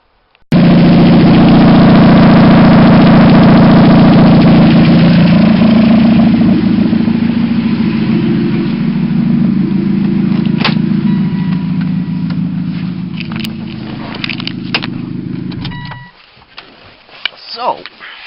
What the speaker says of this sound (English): Now I'll continue on with where I start the Saturn up